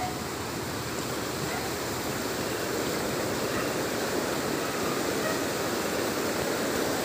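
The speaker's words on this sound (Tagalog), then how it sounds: "Ang laki ng ilog." Large river rushing beneath a long hanging bridge, a steady, broad roar of flowing water filling the scene, loud and continuous without pause.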